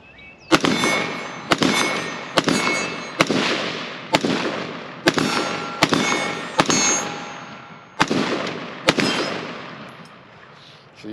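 An AR-15 rifle fires outdoors in about ten sharp, loud, close shots. They come roughly a second apart, and each crack rings out and decays before the next.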